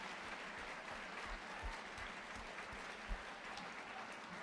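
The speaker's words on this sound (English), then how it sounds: "Yeah, round of applause." A live audience claps for students at an event launching a youth coding challenge, a steady, moderately distant round of applause that holds evenly throughout.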